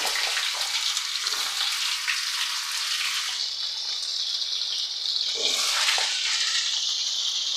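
Eggplant and pumpkin fry in white oil with panch phoron in a pan, giving a loud, steady, close-up sizzle and hiss that swells briefly near the end, with no talking.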